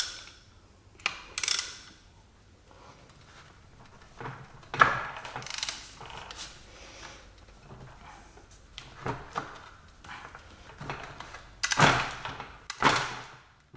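Wrench loosening lubricated 14 hex bolts on a bracket during a Jaguar S-Type differential teardown, scattered metallic clicks, scrapes and clunks at irregular intervals, close and moderately loud, with no talking.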